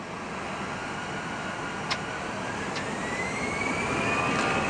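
Airbus A320 jet engine idling steadily after start, heard from inside the cockpit as a constant broad roar with a faint rising whine, plus a few brief clicks.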